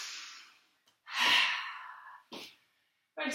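A strong, breathy exhale during a short stress-relief stretching sequence, close and loud, followed by a couple of shorter breaths with quiet gaps between them.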